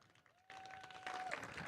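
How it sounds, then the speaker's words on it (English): Conference audience at HiveFest in Rosarito, Mexico, applauding speaker Detlef; faint clapping swells in suddenly after a brief tone and continues as a soft, distant crowd wash. "a round of applause for Detlef"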